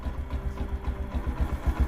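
A motorcycle engine idling nearby, a low uneven throbbing putter with rhythmic pulses and no voices over it.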